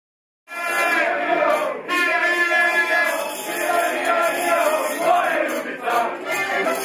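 Enthusiastic crowd at Brnik airport welcoming Slovenia's Paralympic athletes, a loud, sustained mass of cheering and shouting voices with a steady roar after a sudden start.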